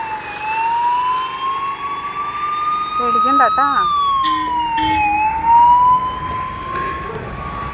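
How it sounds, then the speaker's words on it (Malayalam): An ambulance siren wails close by, its tone sweeping up and down in long steady cycles as the vehicle passes, while a person speaks briefly and softly over it. "ഒരു ആംബുലൻസിൻ്റെ സ്വരം കേട്ടു അവൻ ഭയങ്കര അലർട്ടായിട്ടിരിക്കുകയാണ്"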